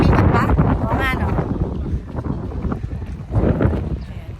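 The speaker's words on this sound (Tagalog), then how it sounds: "Taas ang hangin." Strong wind gusts buffet the microphone at sea off Mykonos, a loud, constant roar over the rush of a boat on the water, with people talking over it.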